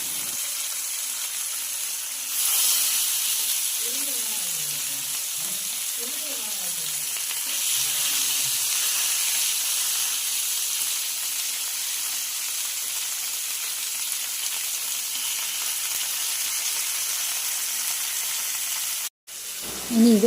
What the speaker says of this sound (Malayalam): ആ ദോശക്കല്ലിൽ തന്നെ നമ്മൾ പൊട്ടറ്റോ എല്ലാം മാറ്റിയിട്ട് മീൻ ഗ്രില്ല് ചെയ്ത് എടുക്കാൻ പോകുന്നു